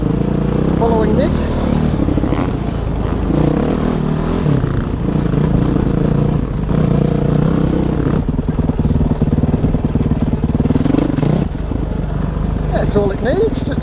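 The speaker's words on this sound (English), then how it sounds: "here we go, second ride on my animal of a bike, the 450X, following Nick" A 450X dirt bike engine revs hard while being ridden on a trail, its loud, buzzing drone rising and falling close up for the whole stretch, with a rider's voice occasionally mixed in over it.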